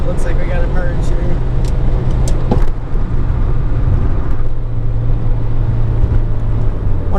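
A 1990 Honda Accord drives on the road with a steady low engine and road rumble filling the cabin, while someone talks over it.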